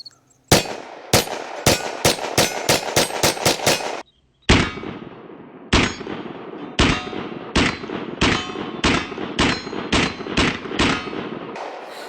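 An FN 502 Tactical pistol fires ten rounds of Punch ammunition at a 10-yard target, loud sharp reports in quick rhythmic strings, eight in a fast burst, a brief pause, then a steadier run of shots.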